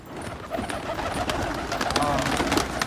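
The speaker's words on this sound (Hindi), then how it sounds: "नया कबूतर दौड़ा रहे हैं जावेद भाई।" Soft pigeon cooing blends into a busy outdoor bed of noise, with a person talking faintly in the background.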